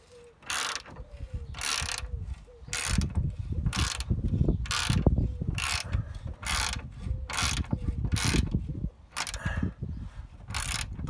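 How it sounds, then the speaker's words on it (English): A breaker bar and ratchet work bolts loose on the rear step of a Land Rover Discovery 2, giving rapid, evenly repeated clicking bursts of the pawl close by, with soft metallic knocks and handling noise between strokes. "Use the breaker bar to just loosen them off, and now I'm just gradually undoing them."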